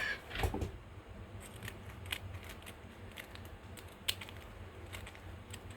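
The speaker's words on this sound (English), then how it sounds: "I want to do here is kind of cut it into strips. So let me grab my scissors right quick." Scissors snip paper into strips nearby: sparse, quiet crisp clicks and short cuts over a faint room hush.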